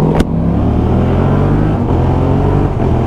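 A Yamaha R7 sport motorcycle engine runs loud and close with a steady throbbing idle-to-rev drone and a sharp transient near the start, heard alone without talk.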